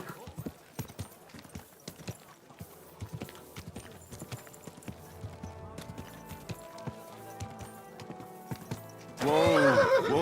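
Inside the video game Kingdom Come Deliverance 2, a horse's hooves clop in a steady rhythm over the ground, then the horse lets out a loud, close whinny near the end, with soft background sounds underneath.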